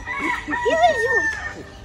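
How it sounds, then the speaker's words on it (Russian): A rooster crows close by at a safari park in Ramat Gan, Israel, one rising and falling call lasting about a second, while people talk around it. "Вот и петух сзади пришел, тоже хочет."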